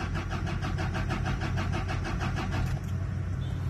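A Toyota Fortuner with a suspected fuel fault cranks steadily without catching, the starter churning in an even rapid rhythm for about three seconds before stopping.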